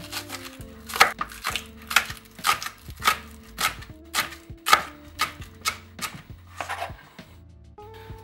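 Knife chops vegetables into long strips on a cutting board, about a dozen sharp, close thuds in a steady rhythm with brief pauses between them, no talk.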